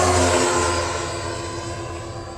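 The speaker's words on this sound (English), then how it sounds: "This is the mandatory flyby." Quarter-scale radio-controlled Beechcraft King Air C90A model plane making a flyby on a cloudy day, a loud, close engine drone that fades slightly as it passes.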